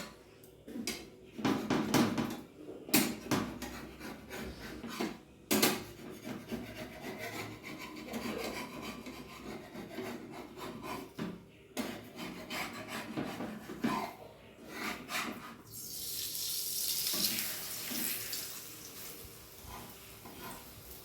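Roti dough being worked by hand on a wooden board, with rubbing, kneading and rasping strokes, occasional sharp knocks of utensils and a brief sizzle near the end, close and without talk.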